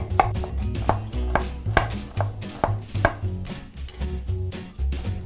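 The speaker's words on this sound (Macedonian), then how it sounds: "Ситно ќе исецкам, значи не во блендер" A knife finely chops onion on a cutting board for homemade kebabs, making quick, sharp, irregular taps close by with no talking.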